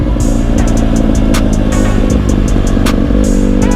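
Loud, continuous engine drone from a Honda CRF150R dirt bike in snow, recorded up close with a constant buzzing rumble and faint clicks on top, steady rather than rising sharply.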